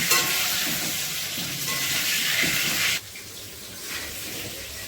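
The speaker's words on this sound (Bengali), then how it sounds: "আলু ভাজা বসিয়ে দিয়েছি, আর আলুটা পুরো লাল করে ভেজে নেবো" Potatoes sizzling in hot oil in a pan, a dense, steady frying hiss that drops in loudness partway through, close with no talking.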